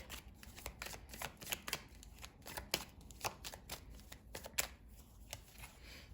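Tarot cards handled and drawn from a deck during a reading, giving a quiet run of soft papery flicks and taps in irregular rhythm across the whole span, with no talking.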